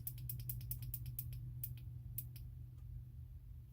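Ring light power button clicking on a 6-inch dimmable ring light, a quick run of sharp, close ticks in an even rhythm that thins out and stops, with no speech.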